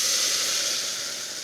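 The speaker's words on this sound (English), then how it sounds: "I'm gonna season it, which means I'm going to cook it with a little bit of oil." Pureed red chile salsa hitting very hot oil in a pan, a loud continuous hiss and sizzle that eases slightly as it settles, with no talking.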